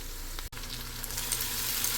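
Ginger and garlic fry in hot oil with onions in a pan, a steady close-up sizzle that briefly cuts out for a moment before resuming.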